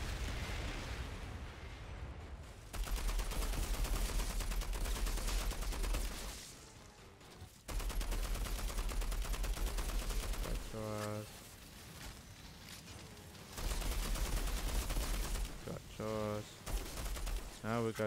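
Rapid gunfire from the Outriders video game rattles almost continuously in dense bursts, loud and close, with brief lulls between volleys and a player's voice talking over the shooting.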